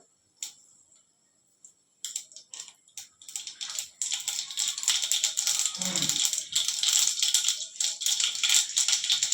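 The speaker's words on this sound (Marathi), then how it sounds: "आता आपण जिरे मोहरी टाकून घेऊया" Cumin and mustard seeds crackle and spit in hot oil in a home kitchen, scattered pops building into a dense, steady sizzle after a few sharp clinks, close and fairly quiet.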